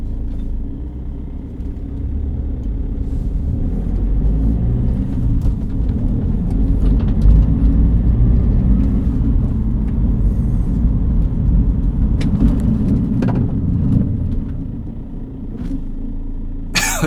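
A BMW 325ti diesel engine idles with a heavy, steady low rumble and strong vibration, close and sustained throughout, with faint rattles on top.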